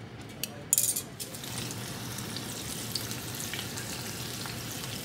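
Frozen lumpia bubbling in hot oil in a pan gives a steady, dense sizzle throughout, with a couple of sharper crackles and a light clink near the start.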